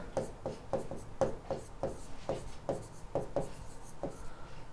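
A pen writing accounting journal entries by hand on paper: close, soft scratchy strokes in a quick, regular rhythm, each a short rub against the page, with no speech.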